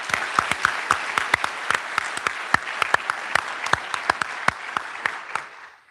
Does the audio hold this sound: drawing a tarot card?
no